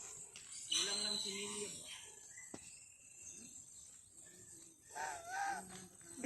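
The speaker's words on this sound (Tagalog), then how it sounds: "Gansa." Honking calls from geese ring out in short bursts, some nearby and some farther off, alongside insect chirps and occasional voices.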